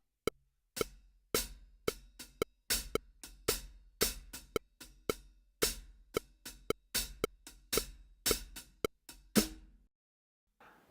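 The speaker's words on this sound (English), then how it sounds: "So the hi-hat sounds like this. I'll play it half as fast." A hi-hat alone plays a cascara rhythm at half tempo, close and crisp: a steady run of sharp, syncopated metallic ticks with accents, ending in a brief ringing open hit.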